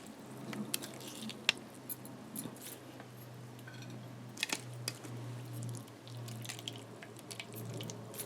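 Grated dried coconut squeezed by hand to press out thick milk for Jaffna pall puttu, with faint, close wet squishing and dripping over a low steady hum and no talking.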